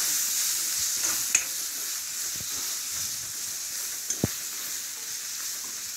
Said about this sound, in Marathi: दोन मिनटं आपण असंच परतू